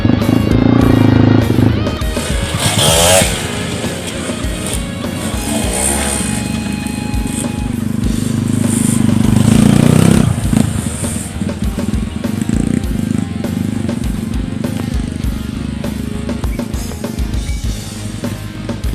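A Honda Sonic modified into a motocross-style dirt bike is ridden off-road on an enduro trail, its engine roaring loud and close with rising and falling revs and rough broadband noise throughout.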